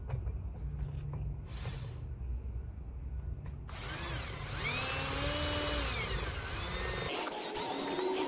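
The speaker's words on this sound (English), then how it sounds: "Then you get a bigger drill, I think this is 7/16, and drill out the head" A power drill bores out a stripped bolt head on a 1969 L-46 four-speed Corvette, running steadily and loudly throughout, with the motor pitch rising and bending under load partway through as the bit bites into the metal.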